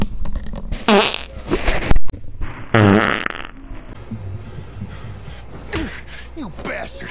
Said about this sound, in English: I got a fart.